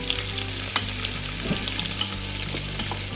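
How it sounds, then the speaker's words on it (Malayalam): Two tablespoons of oil hit a pan of garlic rice with a steady, close sizzle and faint stirring clinks, crackle holding level throughout without any voices. "ഇതിൽ നിന്ന് ഞാൻ 2 ടേബിൾ സ്പൂൺ ഓയിൽ നമ്മൾ ഈ റെഡി ആയിക്കൊണ്ടിരിക്കുന്ന ഈ റൈസിൻ്റെ പാനിലേക്ക് ഒഴിച്ചു കൊടുക്കും."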